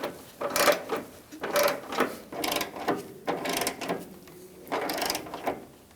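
A ratcheting wrench clicks in repeated bursts while the headlight bezel bolts are snugged down on a Ford E-350 Super Duty van, close and fairly loud, with brief pauses between runs of turns.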